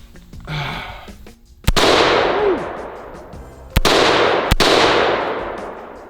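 Two loud, close, unsuppressed gunshots from a .308 HK-style MP5-pattern rifle fired outdoors, each a sharp crack followed by a long rolling echo, spaced about two seconds apart with quieter handling sounds before them.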